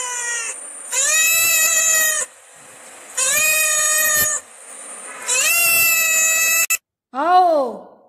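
A cat meows loudly several times in long, drawn-out calls with pauses between them, ending in a shorter rising-and-falling meow.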